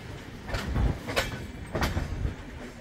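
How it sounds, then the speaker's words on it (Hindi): A New Delhi–Indore Intercity Express train rolls along the rails just after leaving New Delhi station, a low rumble with a few faint wheel clacks, heard from inside the sleeper-class coach. "तो हमारी train new Delhi railway station से एकदम टाइम पे चल दी है"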